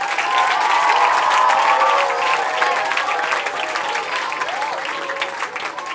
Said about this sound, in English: So the biggest round of applause needs to be given to the parents here.